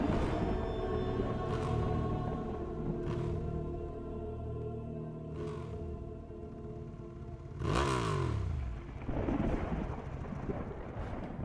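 A motorcycle engine revving in a dramatic scene, low rumbling surges rising and falling with sweeping pitch changes, mixed with clattering bursts and heavy rumbles, fairly distant and faint.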